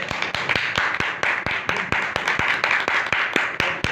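A church congregation claps loudly in a steady, even rhythm, sharp claps landing several times a second, close and continuous for the whole stretch.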